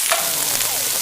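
Food sizzles steadily in a frying pan on a gas cooker while Peruvian dishes are prepared, a close, continuous crackling hiss lasting about a second with no talk.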